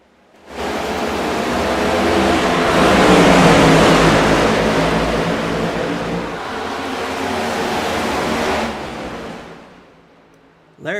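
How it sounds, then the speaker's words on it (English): Race cars roar up to speed on a racetrack as the pace car pulls off during a night race, a loud dense engine wash that swells, holds steady, then eases before a final surge. "Pace car is away."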